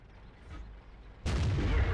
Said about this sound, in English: Put a big shot in there, leaving him unable to shoot us up on that slope